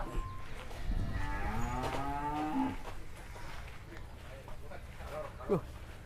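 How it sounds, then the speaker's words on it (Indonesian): Cattle mooing in a rural Situbondo setting, a long drawn-out low moo with rising tonal bands, fairly close and loud, followed by a shorter call; people exclaim over it. "Wow, sapi ini."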